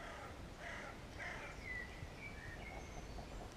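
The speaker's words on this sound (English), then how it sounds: "Listen to those birds singing." Wild birds call faintly in the woods, with thin whistled notes and crow-like caws over a low steady background hum.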